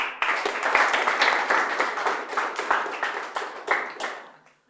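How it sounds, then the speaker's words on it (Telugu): An audience at a meditation session claps for the meditators, a brisk, dense burst of hand claps that runs for several seconds before tapering off and stopping. "ఫస్ట్ వీళ్ళకి చప్పట్లు కొడదాం."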